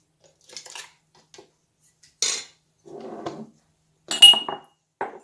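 A metal spoon scrapes and clinks against a jar in a few short, separate bursts with quiet gaps between, close by and without talk.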